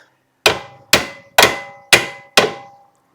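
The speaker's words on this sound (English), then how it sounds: "I decided to use the round end of this ball peen hammer here, just to kind of loosen this up a little bit." Five sharp metallic strikes from the round end of a ball peen hammer, used to loosen a part during a DIY rear brake job on a Honda Accord, evenly spaced and ringing briefly after each close, loud hit.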